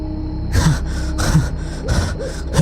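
A man gasps and pants sharply in a series of four heavy, ragged breaths close up as he jerks awake in bed, with no other sound around them.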